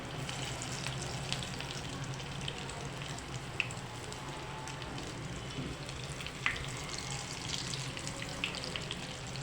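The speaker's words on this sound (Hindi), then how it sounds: "मीडियम फ्लेम पे हम इनको फ्राई करते जाएंगे।" Chicken vegetable kababs frying in oil on a medium flame, a soft continuous sizzle with faint crackles and a couple of light clicks, fairly quiet and close, no talking.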